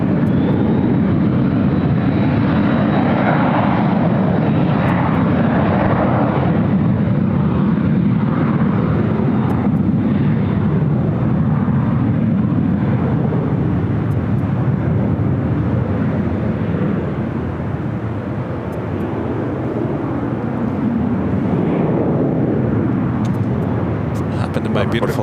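A jet airliner takes off from runway 24 left at LAX, its engines a loud, sustained roar filling the whole stretch with a steady broadband rumble; voices talk faintly underneath.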